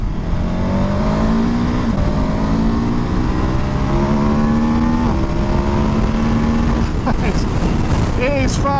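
A 2021 KTM 1290 Super Adventure motorcycle accelerates hard on a twisty road, its engine note climbing steadily through the gears with loud wind rush over the whole stretch and a sharp rev change near the end.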